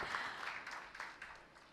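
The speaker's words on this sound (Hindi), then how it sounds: "तो एक बार जोरदार तालियां" Faint, distant applause from an audience at an official ceremony on expanding faceless public services, clapping for an honoree who saved lives; an even patter of many hands that tapers slightly.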